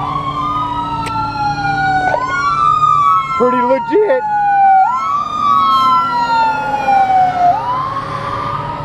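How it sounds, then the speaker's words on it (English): Ambulance siren on a nearby road wails in long rising and falling sweeps, loud and close, with a brief short voice partway through and traffic rumble underneath. "Got the ambulance coming."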